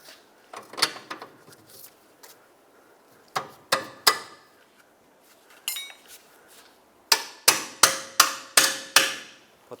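Metal strikes ring out as a bolt is hammered through the rear control arm and knuckle of a 2007-2010 Chrysler Sebring, sparse at first, then a rapid run of sharp, loud clanks.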